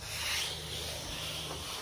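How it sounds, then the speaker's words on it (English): Steady hand sanding with a block on car bodywork of a boxy Chevy, a soft continuous scratchy hiss with a slight back-and-forth texture, close up. "He was hand sanding with the block."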